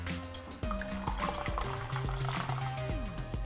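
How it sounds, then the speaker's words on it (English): Hot water poured into a glass of tea for a Polynesian punch fruit tea made with syrup: a steady liquid pour with ringing, rising fill tones, close and fairly quiet, with no talking. "we want to add 50 milliliters of hot water on top of that"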